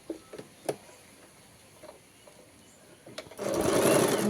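A sewing machine stitches a girl's baby frock, starting with a few scattered clicks and taps before the motor breaks into a loud, steady whirring run near the end.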